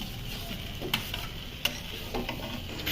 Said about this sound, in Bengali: মশলার সাথে মিনিট দেড়েক নাড়াচাড়া করে মিশিয়ে নিয়ে দিয়ে দিচ্ছি আগে থেকে ভেজে রাখা আলু